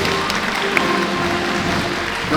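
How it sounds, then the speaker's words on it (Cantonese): Audience applause at a school plaque unveiling ceremony for a new campus, a steady wash of clapping filling the space, moderately loud and continuous, with faint background murmur. "掌聲恭賀！"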